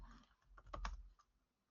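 A few quick keystrokes on a computer keyboard, faint close clicks in a short burst in an otherwise quiet room.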